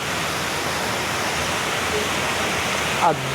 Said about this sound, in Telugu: ఇక్కడ ఇది ఒరిజినల్ హాట్ స్ప్రింగ్స్ అనమాట